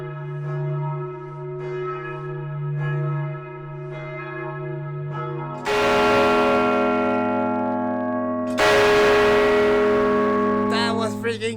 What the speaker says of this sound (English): That huge bell was just ringing right now with no previous warning.